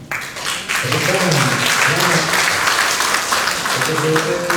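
Applause from an audience at a government workshop, a dense, sustained roar of many hands clapping, loud and steady after a short lead-in, with voices mixed in underneath.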